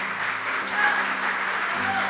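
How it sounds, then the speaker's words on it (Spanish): A church congregation breaks into steady applause during a sermon, sustained clapping at moderate loudness with a low hum beneath, brief and continuous. "Dele un fuerte aplauso al Señor."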